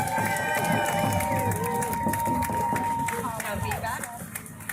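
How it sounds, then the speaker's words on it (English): An outdoor crowd at a trucker protest rally in Ottawa claps and cheers, a busy mix of hands and shouts with voices talking and calling out over it. "Can you guys please give Jody Ledgerwood a big round of applause?"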